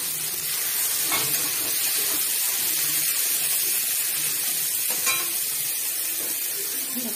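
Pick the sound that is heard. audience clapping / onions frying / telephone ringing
onions frying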